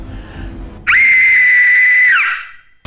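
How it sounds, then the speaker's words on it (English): An Aztec death whistle blown once in a penitentiary setting, giving a sudden, piercing, sustained shriek of about a second and a half that fades out abruptly after a quieter rumbling lead-in. "let's have a blow on this death whistle and see if we can bring some of them out"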